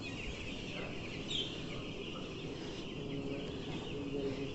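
Chickens cluck and chatter in a heated poultry shed, a dense, continuous murmur of many birds at moderate loudness with a few brighter calls standing out.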